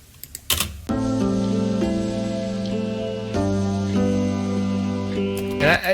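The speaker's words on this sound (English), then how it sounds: "that piano where it just marches at every quarter note," Piano chords marching in steady quarter-note beats, sustained notes ringing together with a few brief taps and clicks at the start and end.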